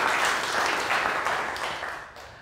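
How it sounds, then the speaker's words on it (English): Audience applause at a motivational talk, a dense burst of clapping from a crowd that holds steady and then gradually tapers off near the end. "Let's give him a round of applause for share"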